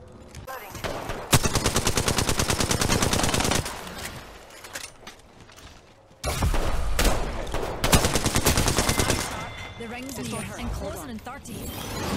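An Alternator submachine gun in a battle royale shooter rips out two long, rapid bursts of fire, loud and close, with talk and game sounds in the quieter gaps.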